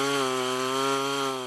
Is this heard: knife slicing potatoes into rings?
no